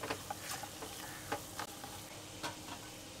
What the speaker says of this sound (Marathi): परतून घ्यायचं आहे व्यवस्थित.